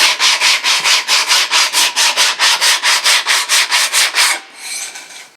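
Sandpaper rubbing back and forth along the feather edge of a scarfed wooden dinghy plank, about seventeen even, loud strokes in quick rhythm before a softer, shorter scrape, with no voices.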